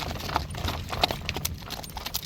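Hooves clip-clopping at a steady walking rhythm, close by, with faint ambient noise in the background.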